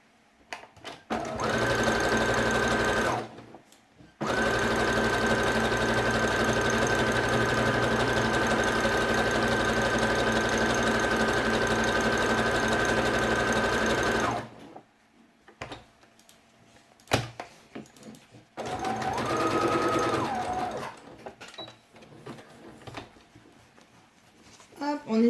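A sewing machine stitching a felt quiet book runs in two long, steady, whirring stretches, with brief pauses and a final shorter run, close and loud, while a voice speaks during the gaps.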